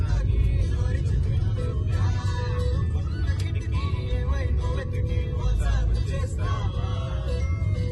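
Steady road rumble of cars driving along a highway on a long road trip from Sydney to Perth, a continuous loud engine and tyre drone heard from inside a moving vehicle, with passengers chatting over it.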